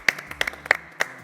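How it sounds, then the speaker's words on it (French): A few quick, scattered hand claps ring out in a brief, sparse burst of applause for Cédric Bécalé on a TV show, with no one talking. "On peut déjà l'applaudir."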